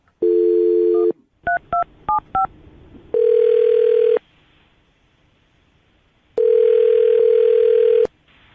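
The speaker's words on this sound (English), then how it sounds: "I'm going to dial the phone number." A telephone call being placed: a steady dial tone, then a rapid run of keypad touch-tone beeps, followed by two long ringback tones separated by quiet gaps, clear and loud with no talking.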